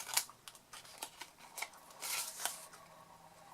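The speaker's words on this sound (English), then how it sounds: "Okay, so just cut them away." Scissors snipping away small cardstock tabs, a quick series of sharp close cuts and paper rustles, quiet and without talk.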